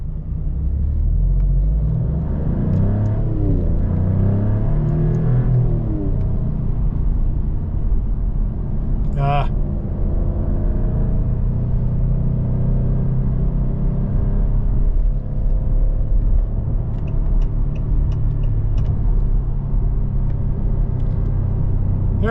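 A 2024 Maserati Gran Turismo Trofeo drives along with a continuous low engine rumble and road noise, heard steadily from inside the car, with a brief sharp click partway through.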